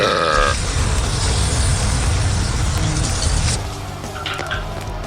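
A voice imitating a fiery belch during a tabletop fantasy role-playing game: a loud, sustained rasping roar that runs for about three and a half seconds, then drops off into quieter noise.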